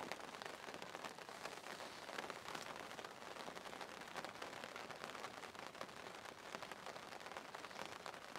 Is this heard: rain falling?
yes